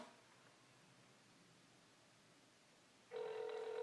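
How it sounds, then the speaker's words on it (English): Telephone ringback tone while a call is placed during a live podcast, starting abruptly near the end after quiet hiss and sounding clear and fairly loud. "going to give a call to Chad and see what he's got to say about the situation really quickly"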